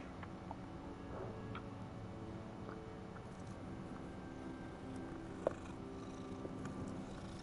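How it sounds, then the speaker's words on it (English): A cat purring softly and steadily at close range, a low continuous rumble that fills the quiet room, with a small click near the end and no talking. "Look at the beautiful kitty."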